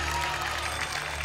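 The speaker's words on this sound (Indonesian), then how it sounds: "tepuk tangan dulu dong untuk Master Limbat dong." Studio audience applause on an Indonesian TV talent show for the magician Master Limbad, a brief, fairly faint burst of crowd clapping over a low hum, lasting just over a second.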